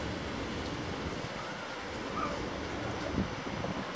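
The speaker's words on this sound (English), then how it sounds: "Put your back towards the wind." Wind buffets the microphone outdoors at a child's second birthday gathering, a constant broadband rumble and roar that fills the whole stretch at an even level, with no clear voices over it.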